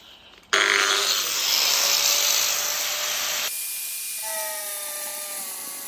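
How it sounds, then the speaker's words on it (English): An angle grinder fitted with a porcelain blade bites into a porcelain garden patio tile with a loud, close, harsh high-pitched cutting whine for about three seconds, then spins down to a fading ringing hum. "I'm just using my grinder. It's got a porcelain blade on it at the moment"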